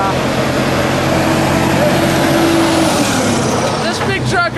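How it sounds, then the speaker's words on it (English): A big truck roars past loudly and close, engine rumble rising and falling, then a sharp hiss of air brakes near the end; a voice speaks briefly underneath. "This big truck right here, that can cause you some traffic issues."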